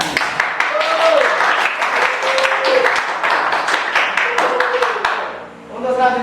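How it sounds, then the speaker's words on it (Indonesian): Students clap their hands together in a classroom, a burst of individual claps close by with voices rising over them, fading out near the end before talk resumes. "Tepuk tangan."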